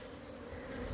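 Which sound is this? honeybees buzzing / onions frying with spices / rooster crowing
honeybees buzzing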